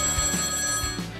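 A telephone rings in one short, steady electronic tone that holds for about a second before fading, close and fairly loud with no speech.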